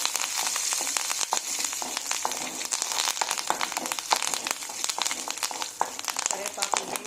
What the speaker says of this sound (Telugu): కరివేపాకు వేగిపోయిందండి.